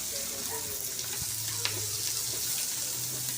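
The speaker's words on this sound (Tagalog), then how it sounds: "Gisa natin yung sibuyas mga kabayan" Onions sautéing in a pan for pancit canton with lechon, a steady soft sizzle with faint clinks of a utensil and low hum, heard close without talk.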